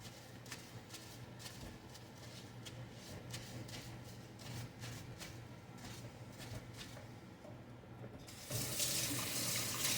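Water running steadily from a tap to wash stencil material off a rack, a faint continuous splashing with light taps throughout, turning to a louder, fuller gush near the end.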